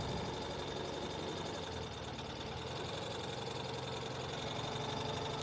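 A 2023 Ural Gear Up sidecar motorcycle idles close by with a steady, even engine drone and a low mechanical rumble, alone with no talk.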